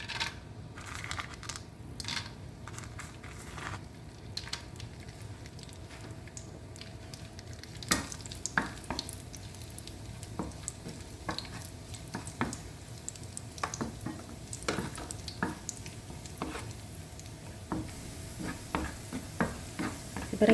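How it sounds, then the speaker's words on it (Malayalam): Raisins frying in hot coconut oil in a pan for Kerala-style ghee rice, with a steady soft sizzle and scattered clicks and scrapes of stirring throughout, no talk. "ഇനി നമുക്ക് ആദ്യം റേസിൻസ് വറുത്തെടുക്കാം."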